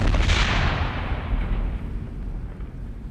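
A single heavy cannon blast booms loudly at the start, then decays into a long rumbling roll that fades over a few seconds.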